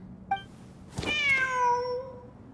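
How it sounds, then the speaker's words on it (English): A cat in Genshin Impact gives a single clear, drawn-out meow after a brief faint chirp, close and alone with no talk over it. "Wait, there it is!"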